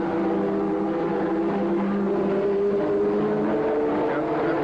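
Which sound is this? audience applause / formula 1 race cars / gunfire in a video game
formula 1 race cars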